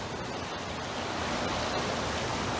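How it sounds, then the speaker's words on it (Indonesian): Abundant river water rushes and churns in a steady, loud broadband roar filling the whole stretch, with no voices over it. "ini sungainya melimpah, airnya melimpah maksudnya guys"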